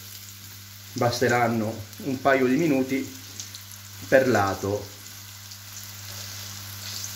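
Slices of pumpkin frying in hot oil give a steady, faint sizzle beneath someone speaking Italian at close range, and the sizzle continues alone after she stops.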